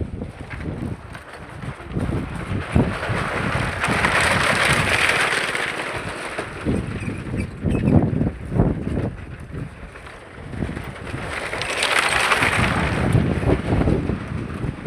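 Wind blowing along the bank of the Manteshwari river, a steady rushing buffet on the microphone that swells in broad gusts around the middle and again near the end, loud and continuous with no talking.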